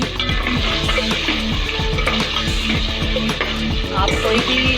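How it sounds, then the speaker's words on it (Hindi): Meat for potli pulao lands in a hot pot and sizzles loudly and steadily, with repeated crackling bursts and some stirring rattle throughout. "अब मैं डालूंगी इसमें गोश्त।"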